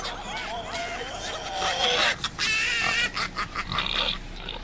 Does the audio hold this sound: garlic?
no